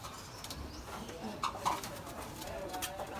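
Racing pigeons coo softly inside a loft, a few low rolling calls rising briefly over a steady quiet background hiss.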